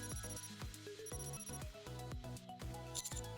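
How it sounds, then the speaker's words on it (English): A counter bell rings at the front of a shop in the video game Nikke, heard as bright repeated chiming tones over steady game music. "the sound of bell ringing comes from the counter up front"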